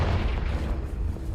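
A Confringo spell blast in the Hogwarts Legacy video game, a short, loud, rumbling low boom that fills the whole moment without a clear attack or decay.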